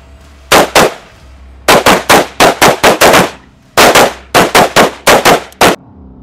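Spanish military rifles fire at a shooting range in Poland, with sharp, loud cracks coming in quick bursts of several shots separated by short pauses.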